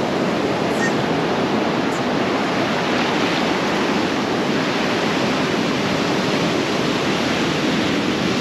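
Ocean waves wash onto a beach in a steady, dense roar of surf that stays loud and unbroken throughout, with no voices.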